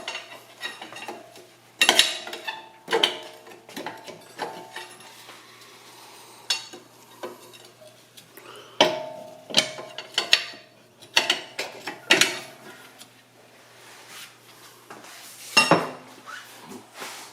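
Rear axle of a Mazda MX5 being popped out of its differential during a rear hub and bearing job, sparse close metallic clanks, clicks and knocks scattered over quiet moments.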